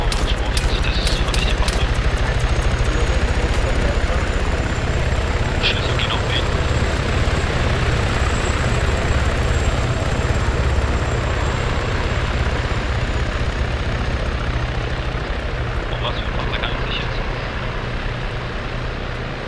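A helicopter's engine and rotor run steadily and loudly in the ARMA 3 video game for a long stretch, a continuous whine over rotor throb, with brief sharp clatters near the start.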